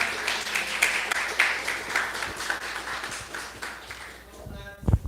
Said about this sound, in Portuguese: As palmas são para Jesus, amém, irmãos?